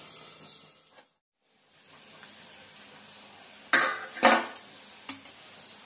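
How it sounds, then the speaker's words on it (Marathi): A lid set onto a cooking pan while onion, garlic and ginger fry for a Malvani-style French bean dish: a few clear metallic clinks and clatters after a brief hush, over a low sizzle. "झाकण ठेवूया म्हणजे लगेच लाल होईल."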